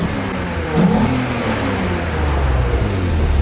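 BMW M3 sedan engine with about 200,000 miles, running steadily just after an intake carbon cleaning, a low even drone with a slight rise near the start, close and fairly loud with no talk.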